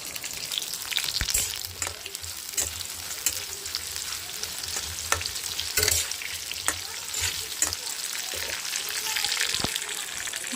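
Vegetables fry in oil in a pan with a constant close sizzle, broken by occasional scrapes and knocks as they are stirred. No one speaks.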